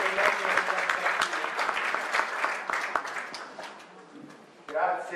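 An audience at a conference on gender violence in Lecce applauds the speaker from the bar association with a sustained patter of many hands that fades toward the end. A voice begins talking over the final moments.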